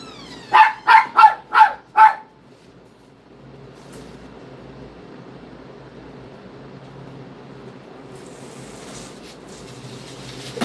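A dog lets out five loud, evenly spaced barks in quick succession while a delivery arrives, then falls quiet, leaving a low steady background hum.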